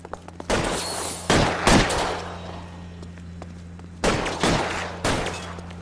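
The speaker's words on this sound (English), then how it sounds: "Covering fire!" Gunfire in L.A. Noire crackles as covering fire, loud bursts of several rapid shots in two clusters, separated by a short lull with a steady low hum underneath.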